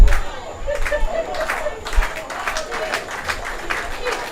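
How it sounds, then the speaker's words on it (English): Baseball crowd at an evening game in Edenton claps in rhythmic bursts with scattered cheers, the stands fairly near and lively throughout. "Fans come to a closing clap here in Edenton."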